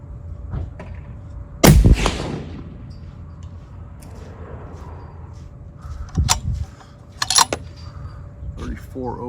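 A single sharp rifle shot at a range while zeroing a scope, loud and close with a brief ringing tail, followed by quieter handling clatter and clicks.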